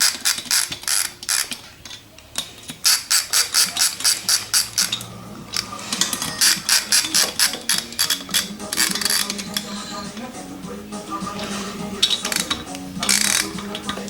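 A ratchet tightens the top end bolts on a Yamaha PW80 engine, giving rapid rhythmic clicking bursts in repeated strokes, close and loud, with a television playing faintly in the background.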